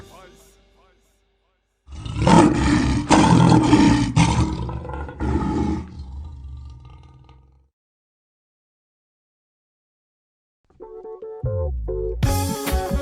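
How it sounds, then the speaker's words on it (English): A lion roars loudly in a series of deep, rough bellows for several seconds, then falls silent, followed by a different tonal sound near the end. "the lion's voice. Raw. Lion"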